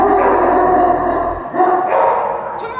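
Dogs in kennel enclosures at a dog shelter bark and yip close by, a few sharp excited calls with whimpering between them, over a low steady hum that stops partway through.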